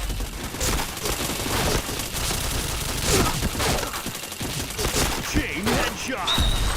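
Continuous loud video game gunfire with repeated shots and headshot hits, sustained throughout the clip under an occasional speaking voice.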